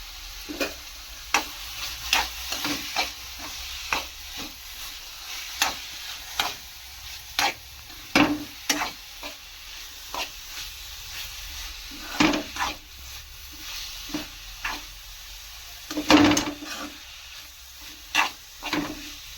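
Beetroot and grated coconut stirred in a pan, a spoon scraping and knocking in an irregular rhythm over a soft, steady sizzle.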